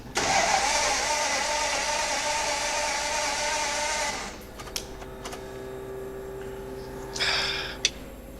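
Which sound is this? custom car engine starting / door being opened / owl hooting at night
custom car engine starting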